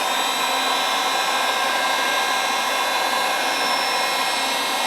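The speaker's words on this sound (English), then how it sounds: "What you need is a heat gun." A heat gun blows hot air nonstop in a steady, loud, broadband whoosh, with a faint high whine running through it and no voices.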